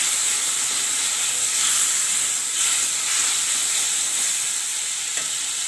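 Spice masala frying in a pan sizzles loudly and steadily after a little water is added, a dense close hiss with slight swells and no voices.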